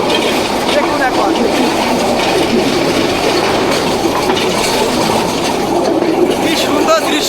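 The Burimari Express rumbles along the rails between Rangpur and Santahar, a steady dense roar of wheels and carriage noise heard from inside, continuous and fairly loud, with a voice speaking over it at times.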